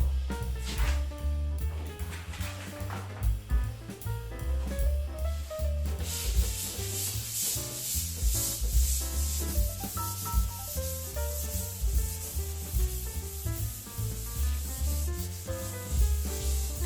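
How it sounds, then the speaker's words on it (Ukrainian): Steady rhythmic hand sanding of primer on a car body with an abrasive sponge, back-and-forth strokes close by, continuous for the whole stretch with no talking. "В першу чергу потрібно зашліфувати ґрунтовку."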